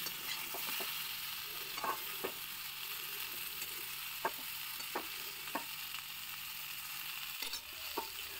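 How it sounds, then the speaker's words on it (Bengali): Winter vegetables frying on low heat under a lid, giving a soft, even sizzle with scattered faint clicks and a brief thump near the end. "এবার আমি এটাকে চাপা দিয়ে ভাজতে দেবো, মানে ভাজাটাও আমি চাপা দিয়েই করব"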